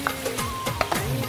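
Chicken karahi sizzles and is stirred in a pan just after yogurt goes in, a brief close burst of frying hiss broken by several quick scraping spoon strokes.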